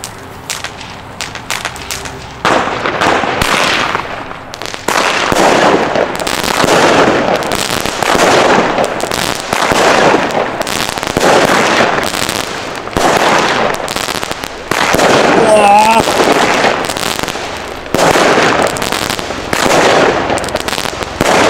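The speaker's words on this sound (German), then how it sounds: "Es ist eine Batterie mit 15 Schuss, 20 mm, einer Brenndauer mit 25 Sekunden und kostet nur 11 Euro." A Blackboxx Boosterblume 15-shot crackling firework battery, 20 mm, fires a long sequence of loud launches, each followed by dense sizzling crackle, with short gaps between shots, close and intense throughout.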